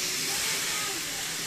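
A ribeye steak sears on a hot indoor stove with a steady, loud, close hiss of sizzling fat throughout the short moment.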